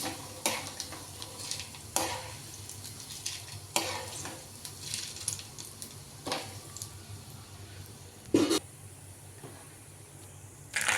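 Cumin and mustard seeds fry in hot oil with black gram dal, giving a steady close crackling sizzle punctuated by several sharp stirring scrapes of a spoon against the pan.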